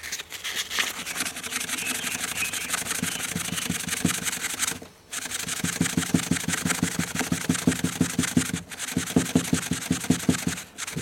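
Wet and dry sandpaper scrubs a Suzuki DR650 motorcycle linkage bolt, a close, rapid rhythmic rasp of short strokes that runs steadily and pauses briefly twice, with no voices.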